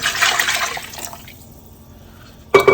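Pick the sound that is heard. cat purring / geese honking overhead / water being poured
water being poured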